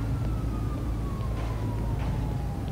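A fire engine siren in the video game Grand Theft Auto V wails in a slowly falling tone over a loud, steady engine rumble, heard fairly close with no voices.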